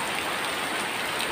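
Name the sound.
heavy rain falling near a house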